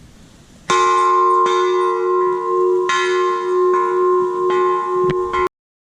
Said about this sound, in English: And then we got big old wind chimes.